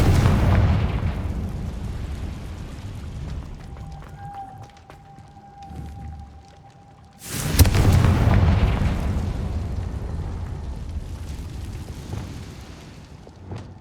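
A blasting spell goes off in Hogwarts Legacy with a sudden loud burst, followed by a sustained rumbling roar that slowly tails off, after a quieter stretch holding a thin whistling tone.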